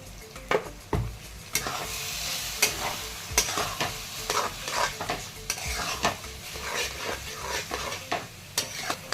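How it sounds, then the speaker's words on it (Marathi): Spiced green peas being stir-fried in oil for eggplant bharit, with repeated spatula scrapes and clinks against the pan over a steady low sizzle, close and alone. "आपल्याला एक पाच मिनिट हे परतून घ्यायचं आहे तेल सुटेपर्यंत आपण मिक्स करून घ्यायचं"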